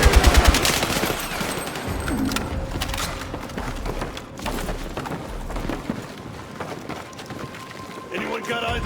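Chaotic firefight in the Battlefield 6 campaign, with bursts of automatic rifle and machine-gun fire, sharp close shots and crackling debris mixed with shouted voices over a dense, loud battle bed.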